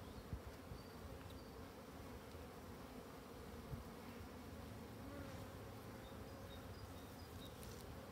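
A black honeybee colony, agitated during a hive inspection, hums in a steady, dense buzz throughout, with individual bees whining close past at moments.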